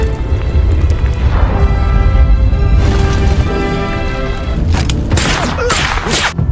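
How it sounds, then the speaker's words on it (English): A loud, sustained rumbling blast with crackling bursts and debris-like rattles toward the end, heavy and booming throughout. "In an instant, many of Antonio's troops were killed by the explosion."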